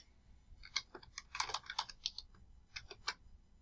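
Keystrokes on a computer keyboard while entering a spreadsheet formula, a quiet run of irregular clicks with a dense burst in the middle and a few taps toward the end, no talking.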